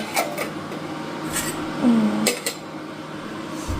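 A metal or ceramic plate is pulled out in a home kitchen for holding fried fish, giving a few scattered clinks and clatters, moderately close, against a low background hum with no talking.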